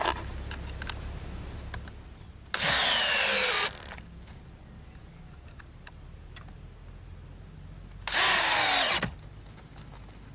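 A power drill drives screws into railway sleepers while track is laid on a turning loop, two loud whirring bursts of a couple of seconds each, separated by quiet outdoor pauses with faint ticks.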